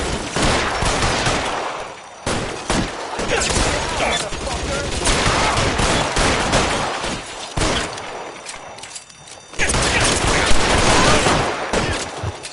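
Sustained suppressing gunfire in LA Noire: dense, loud bursts of rapid shots roll on almost without pause, with short gaps and a heavier volley near the end.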